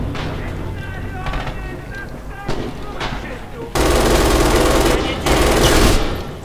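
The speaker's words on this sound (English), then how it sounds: "Let's hit fire it for a bit and see what happens." An MG 42 machine gun fires in Red Orchestra 2, loud and close, as sustained rapid bursts that roar over a steady battlefield din, broken by a short gap before a final burst.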